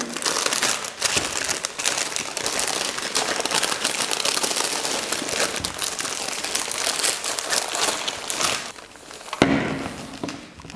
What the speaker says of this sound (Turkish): Paketimizi açalım.